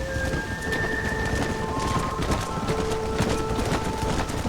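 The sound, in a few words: rain and thunderstorm in Red Dead Redemption video game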